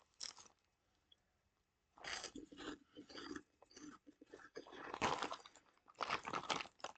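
Someone eating Vlasic dill pickle corn puffs close to the microphone, with a brief crunch, then a pause, then several loud bursts of crunching and chewing in quick succession.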